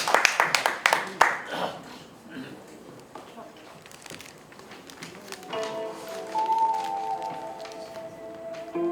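An audience at a poetry recital concert gives a short burst of clapping that fades within about a second, followed by quiet talk from the stage.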